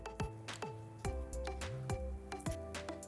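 Soaked basmati rice and prawns are stirred in a pot, giving quiet wet squishes and soft clinks of a spoon repeating in a steady rhythm, close by with no talk.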